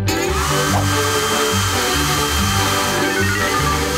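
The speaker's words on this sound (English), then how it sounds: "I just need a hairdryer!" A steady, loud electric hairdryer blows continuously, with a low rumbling hum underneath and no pauses.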